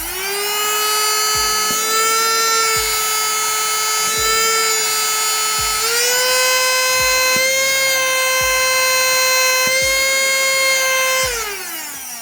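A cheap two-speed handheld vacuum cleaner with blower whirs loudly and steadily for about eleven seconds, its motor whine stepping up in pitch partway through and winding down at the end, with faint clicks underneath.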